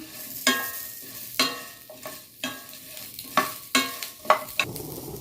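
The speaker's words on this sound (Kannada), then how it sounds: "ಇದು ಸ್ವಲ್ಪ ಹಸಿ ವಾಸನೆ ಹೋಗುವವರೆಗೂ ಸ್ವಲ್ಪ ಚೆನ್ನಾಗಿ ಫ್ರೈ ಮಾಡ್ಕೋಬೇಕು ಇದನ್ನು" Radish frying in a pan for chutney, a low sizzle punctuated by sharp scraping stirs against the metal roughly every half second to a second, close and without talking.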